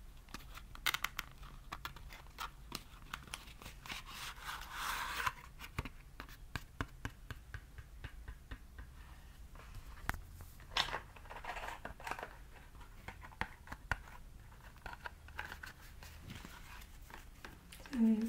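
Playing cards tapped and shuffled close to a binaural microphone, a dense run of soft crisp clicks, flicks and riffling through the whole stretch, with a faint voice now and then.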